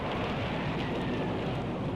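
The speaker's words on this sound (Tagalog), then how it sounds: "Ang lakas talaga ng hangin at ulan." A storm brings strong wind and heavy rain in a steady, loud, unbroken roar with no voices.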